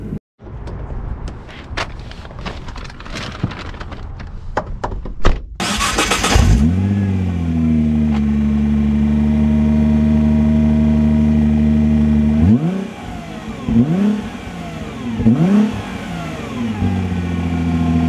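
A Nissan GT-R (R35) sports car engine starts with a sharp burst, then idles with a steady low rumble before revving up in several quick throttle blips near the end.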